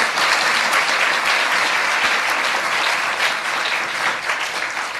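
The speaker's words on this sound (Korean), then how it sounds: "박수 한번 쳐주시죠." Loud, sustained applause from a congregation at a healing service in Yongin, Korea, many hands clapping steadily and close throughout with no pause.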